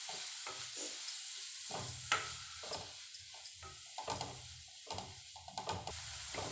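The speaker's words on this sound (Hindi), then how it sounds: "अब हमें मेथी को घी के अंदर रोस्ट कर लेना है।" Fenugreek leaves roasting in ghee in a pan, a soft continuous sizzle broken by repeated scraping and stirring strokes of a spoon, close and quiet with no talking.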